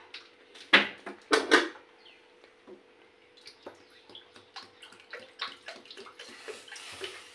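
Water poured from a bowl into a pot for sugar syrup, two splashy pours close up followed by scattered drips and small clinks.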